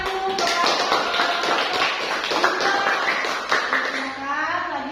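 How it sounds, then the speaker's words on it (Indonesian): Classroom applause for a student group in a teacher-training session, a dense wash of clapping hands filling the room, with voices mixed in underneath. "Kita beri tepuk tangan dulu kepada"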